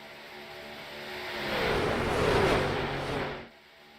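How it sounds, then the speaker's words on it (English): A racing truck engine in a Daytona truck race video game swells as it approaches down the backstretch, roars past at its loudest, then fades quickly into the distance, with no talking. "listen to the sounds of the trucks as they make their way down the backstretch"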